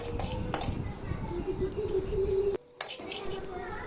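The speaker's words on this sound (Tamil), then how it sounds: "நம்ம ஸ்டவ்வை சிம்மிலே வச்சுட்டு நல்லா பொறுமையாக கலந்து விட்டுடலாம்" Utensils scrape and clink against a pan as spices are stirred steadily over low heat, with faint cooking noise and a brief pause near the end.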